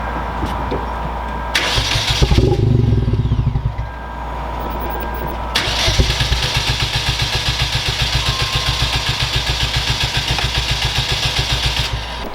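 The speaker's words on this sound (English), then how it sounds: "I'm gonna go ahead and start up the car, give it a few revs" A Hyundai Genesis Coupe cranks in repeated bursts of rapid starter whirring, then a long steady rhythmic cranking that grinds on without the engine catching, close and loud.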